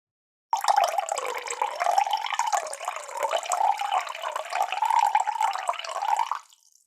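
Water runs steadily from a tap, a continuous close splashing stream that starts abruptly and stops after about six seconds, alone without talk.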